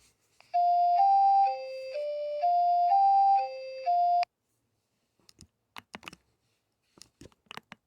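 A self-made ringtone melody beeps from a Nokia 3120 or 1650 phone speaker held near a microphone: a few seconds of clear, alternating pure tones in a repeating pattern, then near silence broken by soft clicks and handling sounds.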